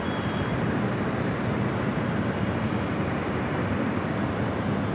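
A Turkish Airlines Boeing 777 in a special biofuel livery roars as a steady, broad jet drone at Los Angeles International Airport, moderately distant and continuous throughout.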